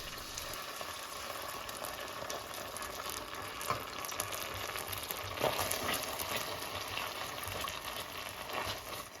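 Garlic stir-frying in a pan as the base for yellow curry crab gives a faint, steady sizzle with soft crackles and a few brief stirring scrapes, close by and without speech.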